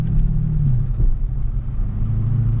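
A 2013 Dodge Charger R/T on street tires, in sport mode with manual shifting, makes a deep, loud engine rumble during a drag race pass, heard from inside the car with no talk.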